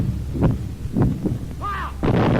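World War II "Ack Ack" anti-aircraft gun firing a series of loud, booming shots in irregular succession, with a brief whistling whine between blasts and a heavy rumble after the final shot.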